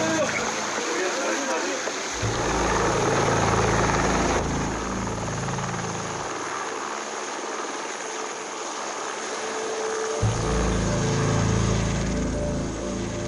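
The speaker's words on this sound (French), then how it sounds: "j'ai jamais vu un hélico cracher" Helicopter crash on Mount Everest: steady loud rotor and engine roar with heavy low thumping that comes and goes, over a constant broadband wash.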